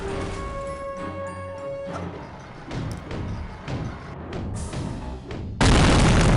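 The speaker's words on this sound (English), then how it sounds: "what was that noise? Got like a rollback explosion" A loud explosion in the video game Psychonauts, heard as a sudden burst near the end after a stretch of layered game sounds and thuds, with no talk over it.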